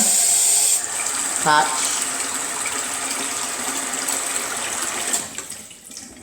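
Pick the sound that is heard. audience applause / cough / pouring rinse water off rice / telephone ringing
pouring rinse water off rice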